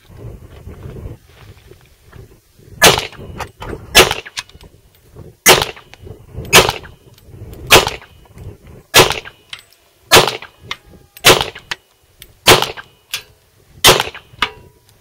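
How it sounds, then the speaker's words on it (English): A Hi-Point .40 caliber pistol fires shots downrange, about a dozen sharp, loud reports at an uneven pace of roughly one per second, each with a brief metallic ring and quiet gaps between. "I'll just shoot a couple more magazines through just to see what's going on with it"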